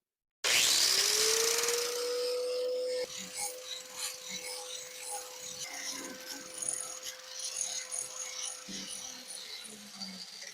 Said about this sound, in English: let's take an ordinary everyday grinder and let's see if we can clean this up